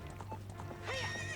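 Epona the horse whinnies in Zelda: Ocarina of Time on Nintendo 64, a rising neigh following a few soft hoof-like clip-clops over a steady low game hum, close and fairly loud with no talk.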